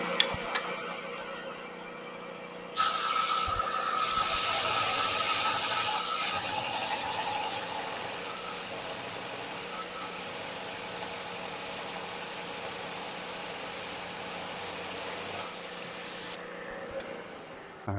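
An annular cutter on a milling machine bores into vise jaw material, a loud broadband grinding hiss that starts abruptly, eases after several seconds into a steadier cutting noise, then stops, over a constant machine hum.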